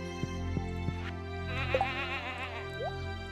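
Goat bleating in the Stardew Valley video game, a single wavering bleat in the middle of the clip over a steady tonal game music bed with a few light taps, no talk.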